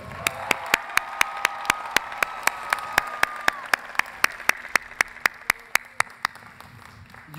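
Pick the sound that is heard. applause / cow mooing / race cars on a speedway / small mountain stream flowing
applause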